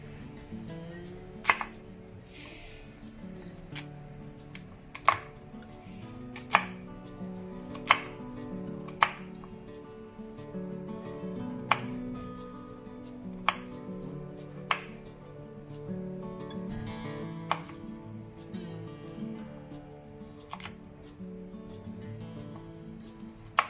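A knife chops carrots and other vegetables into large chunks on a board in sparse, irregular single strokes, fairly close, with a soft low background hum and no talking.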